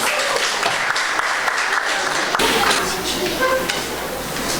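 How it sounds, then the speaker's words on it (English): A seminar audience gives a round of applause for a speaker at a mental health event, continuous clapping with voices talking over it and a shift in room tone midway. "Give him a round of applause as he comes"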